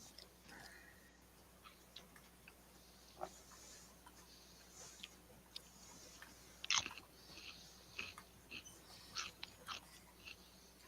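Someone chews celery close to a microphone, giving faint, scattered crunchy bites over a low hum, with a few sharper crunches in the second half.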